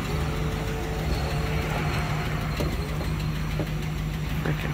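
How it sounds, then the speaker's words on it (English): Steady mechanical hum of the hydraulic pump on a 1948 Packard Super Eight Victoria convertible with a straight-eight, a constant loud drone with faint clicks, no talking. "You can hear the hydraulic pump."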